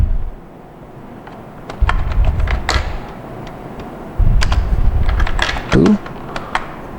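Rapid, irregular clicks of typing on a computer keyboard, close and crisp, with a few heavier thumps and low background noise shifting partway through.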